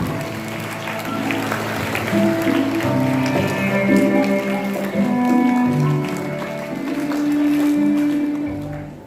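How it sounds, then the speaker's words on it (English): An audience at a school oath-taking ceremony applauds as guests are welcomed with bouquets, sustained crowd clapping that swells and eases over several seconds, mixed with background music and some voices. "Please give them a big round of applause"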